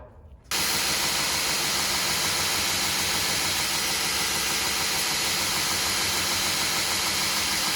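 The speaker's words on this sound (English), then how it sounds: "I'll take it over to my other grinder and really get it refined." Bench knife grinder with a sanding belt running loud and steady while a skinning knife blade is refined, a continuous broadband whir and hiss that starts abruptly after a short pause and holds unchanged throughout.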